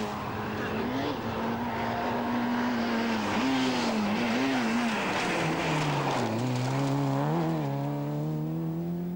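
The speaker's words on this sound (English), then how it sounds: "Other challengers, Callie Grundle had the new Peugeot 309 GTI" Rally car racing on tarmac at the 1988 Circuit of Ireland, with a close, loud engine revving up and down through gear changes and a long wailing pass with its pitch rising and falling.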